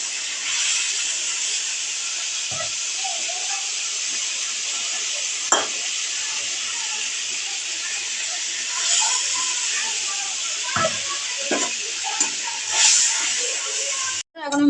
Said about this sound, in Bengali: এবার আমি সর্ষে বাটাটা ঢেলে দিলাম